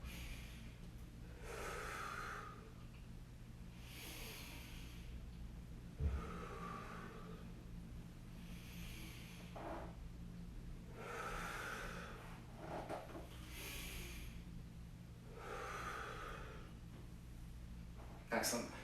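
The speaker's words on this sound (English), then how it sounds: "Take a nice deep breath in." Slow, deep breaths during a hip stretch come and go in a regular rhythm of about six audible inhales and exhales, close and fairly faint, with a couple of brief thumps.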